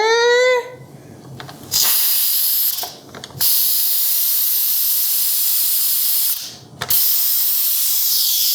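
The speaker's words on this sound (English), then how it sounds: "we're going to release the pressure" Loud, steady steam hiss bursting from an Instant Pot pressure cooker's release valve during the cook cycle, broken by two brief pauses before the forceful venting resumes at full strength.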